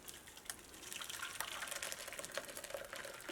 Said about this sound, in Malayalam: അപ്പോൾ നമുക്ക് ഇതിൽ നിന്ന് വെള്ളം മാറ്റിയിട്ട് എടുക്കാം